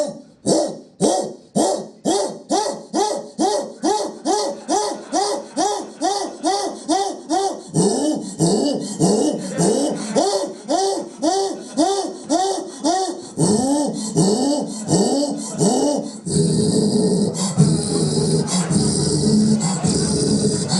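A voice imitates a dog during sex, with a long run of rhythmic, panting bark-like grunts that grow faster and rougher, loud and close.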